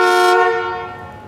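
A Volkswagen bus horn blares loudly in one sustained, stuck-on tone, then fades gradually as it holds, with no voices.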